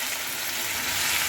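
Spices, tomato, green chilli and ginger frying in a pan give a dense, even sizzle at close range for a brief moment, with no voices.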